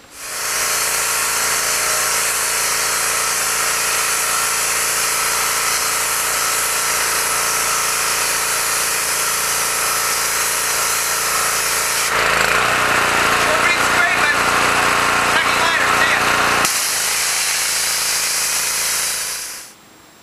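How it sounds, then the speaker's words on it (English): A steady, loud electric sander whirs continuously for about twenty seconds on the fiberglass shell of a Boler trailer outdoors, its pitch and grind shifting briefly midway before cutting off at the end. "Sanding fiberglass in the hot sun, no fun at all."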